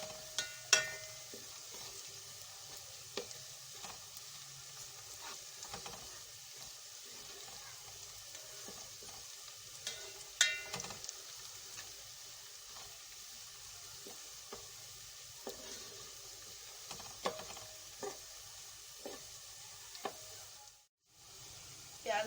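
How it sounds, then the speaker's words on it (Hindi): Chopped onions frying in half a cup of oil in a cooking pot, a soft continuous sizzle with occasional stirring clinks, faint and close, with no talking over it. "एक पतीली में लिए मैंने, उसमें आधी प्याली ऑयल डाला है और प्याज डाल दिए मैंने।"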